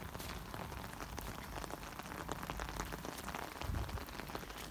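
Steady rain falls across the whole stretch, a dense continuous patter of drops on the ground and puddles, close and even, with no talking.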